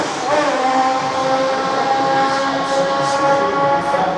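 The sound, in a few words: Formula 1 race car engine passing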